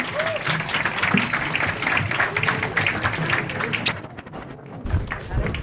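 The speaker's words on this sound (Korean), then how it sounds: "피스파이어 어린이 합창단에게 다시 한번 큰 박수 부탁드립니다" At a March 1st commemoration ceremony, the audience gives a children's choir a warm round of applause, dense and steady, with a few cheers, before the clapping drops off and a voice is briefly heard.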